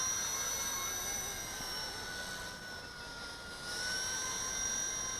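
A Blade 200 SR X RC helicopter with brushless main and tail motors flying, giving a steady high-pitched whine with several sustained tones that shift slightly in pitch, fairly faint and with no talking.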